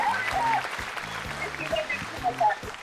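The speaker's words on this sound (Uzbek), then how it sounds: "mana bu qarsaklar sizga." Studio audience applause for a game show winner on an Uzbek TV show, a dense steady clatter of clapping running throughout with music underneath and people talking over it.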